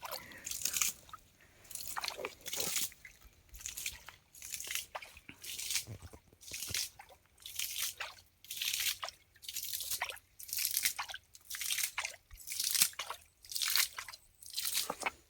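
Water is bailed by hand from a small fish pit using containers, giving a steady run of rhythmic scooping splashes and sloshing pours, roughly one per second, close and fairly quiet.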